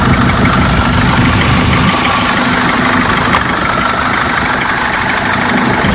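Camper van engine running at idle after being started, a loud, close, steady rumbling chug with slight knock that holds even throughout.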